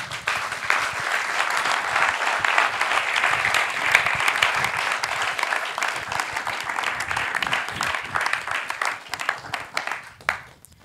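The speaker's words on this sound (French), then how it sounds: "Merci Paul, on peut l'applaudir." An audience in a conference hall claps after a talk, giving a sustained, fairly close wash of applause that tapers off toward the end.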